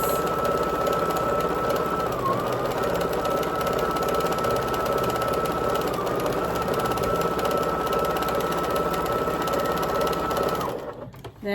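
A sewing machine runs steadily and loudly while stitching pieces of a hearts-and-cross valentine quilt, a continuous whirring hum for about ten seconds that cuts off abruptly at the end, with no talking.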